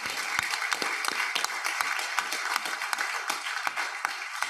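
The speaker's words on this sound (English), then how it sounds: "let's give Scott a round of applause" A room of people at a Washington City, Utah council meeting claps: dense, crisp applause that holds steady throughout at moderate distance.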